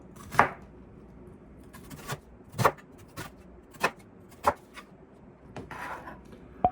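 Half an onion being sliced with a knife on a cutting board: separate sharp chops at an uneven, unhurried pace, close and clear against a quiet room, with no talking.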